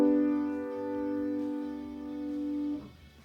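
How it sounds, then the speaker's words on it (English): A three-note chord rings out together as one steady sustained tone, held for nearly three seconds before it cuts off, alone and with no talking. "3 notes playing together, which would sound like this."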